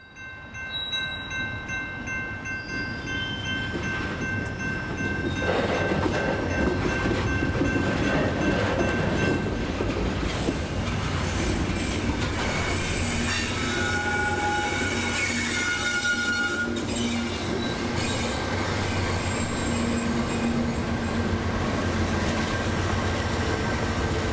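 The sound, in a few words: train shoving railcars, Ybor City industrial tracks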